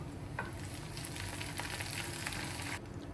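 Onions sizzle steadily in hot oil with curry leaves added for a mussel mango curry, giving a continuous crackling fry with light stirring, quiet and close with no voices.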